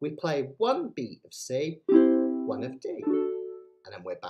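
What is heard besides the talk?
No everyday noises stand out.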